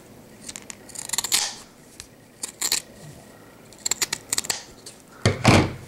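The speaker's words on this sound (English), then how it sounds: "And stop cutting right where your stitches are." Scissors snip fabric in short bursts of cutting strokes to open a welt pocket, with pauses between the clusters and a louder crunching cut near the end; close and alone, with no talking.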